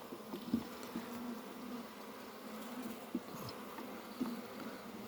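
Honeybees buzz in a steady, low drone while weak colonies are inspected at an apiary, with a few louder passes as single bees fly close to the microphone.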